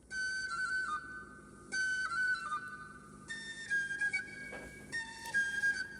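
A cartoon mouse playing one tune on a flute, thin whistly notes in short repeated phrases with brief pauses between them, fairly quiet and heard alone.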